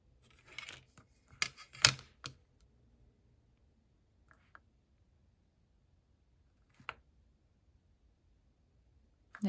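A paper trimmer slices through cardstock with a few close scraping cuts bunched at the start, followed by sparse faint clicks and taps in an otherwise quiet room.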